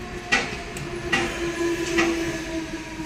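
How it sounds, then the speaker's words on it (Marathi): A train at a railway crossing on the way to Mahad and Pali passes with a steady low rumble, a sustained whistle-like tone and a few sharp metallic clanks of wheels. "ट्रेन"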